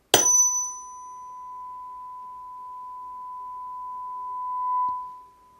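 A struck tuning fork rings over a water-filled resonance tube, giving a sharp attack and then a long, pure, steady tone that swells slightly near the end before fading.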